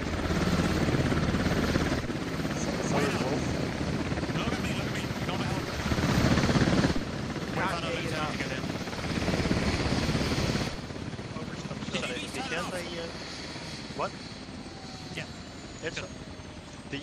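Steady whirring helicopter rotor drone in the video game 9 Komp Bike Race fills the scene, loud and continuous, with voices talking over it and some sharper electronic blips later on.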